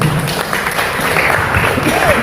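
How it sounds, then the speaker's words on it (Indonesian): Congregation applauding inside a church during a sermon, a steady dense patter of many hands that stays fairly loud throughout, with no break or fade. "Tepuk tangan untuk Tuhan kita"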